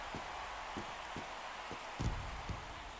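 Steady rain falls during a rainy MLB The Show 22 baseball game, a constant hiss of drops spread evenly through the whole stretch, punctuated by a few soft low thumps and no talking.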